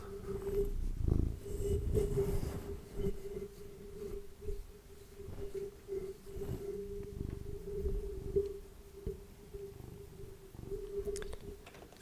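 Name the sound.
cat purring into the microphone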